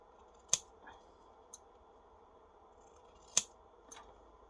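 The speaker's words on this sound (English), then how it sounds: "We're going to trim that down." Scissors trimming the paper border from a gift box lid, two sharp close snips each followed by a softer cut, over a quiet room background.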